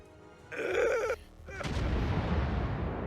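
Naval gunfire in World of Warships, a loud burst of cannon fire followed by a sustained rumbling roar of shell blasts and explosions, with no talk.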